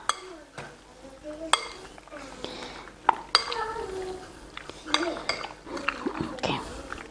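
Utensils clink and scrape against a pan as chicken is stirred with sugar for spicy lemongrass chicken, with sharp metallic taps at intervals and soft voices or a child babbling in the background.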